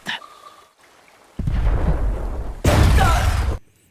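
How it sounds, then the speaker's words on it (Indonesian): An explosion in a Chinese animated fantasy series: a sudden burst of rumbling noise, then a louder, harsher blast that roars for about a second before cutting to silence; no voices. "Tiba-tiba terdengar ledakan yang keras dan Kyoyan terpelanting dari sana."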